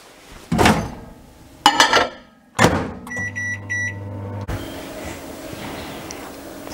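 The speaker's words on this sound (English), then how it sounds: "I'm just going to stick it in the microwave for a couple of minutes, just until it's a bit soft" A microwave oven softens quince for an apple crumble: a few sharp door clunks and handling knocks, then a short run of keypad beeps and a low, steady humming that stops with a click.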